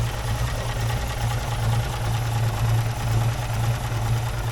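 A small 1953 car engine idles nearby, steady and light, purring with a quick, even rhythmic ticking, almost like a sewing machine running continuously.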